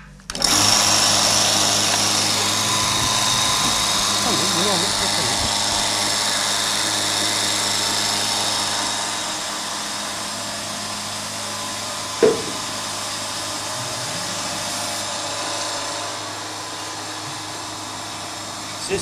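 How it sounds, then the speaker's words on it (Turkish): A dairy milking machine starts up with its pulsators running. A steady mechanical hum and whir carries throughout, with faint rhythmic ticking and one sharp knock partway through. No speech is heard. "Makinamız başladı şu an çalışmaya kalplerden. Sesi duydunuz, tık tık sesini."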